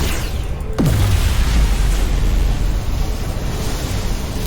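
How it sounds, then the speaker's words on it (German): Lithium explosion in Star Trek: Resurgence, a sudden deep boom followed by a sustained roaring, rumbling wash of noise that stays loud and steady to the end. "Whoa, that lithium explosion"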